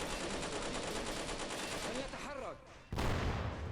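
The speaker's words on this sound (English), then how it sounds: "now we're just going to point blank this tank" A tank firing point blank in a war video game set in the Battle of Tripoli: a steady roar of battle gunfire, then a sudden loud blast near the end, with no talk.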